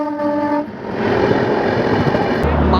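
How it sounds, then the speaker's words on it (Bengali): A train horn sounds as a delayed train pulls into Haridwar station: a short sustained blast lasting under a second, followed by a steady rumbling roar of the train rolling in. "অলমোস্ট 4 ঘন্টা ডিলে পর আমাদের ট্রেন ঢুকছে হরিদ্বার স্টেশনে।"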